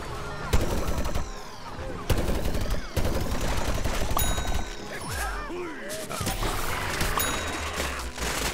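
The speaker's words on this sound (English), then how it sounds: "who's shooting me?" Gunfire in the video game Plants vs. Zombies: Garden Warfare 2, a busy mix of rapid shots and sharp bursts with game effects sounding throughout, loud and dense.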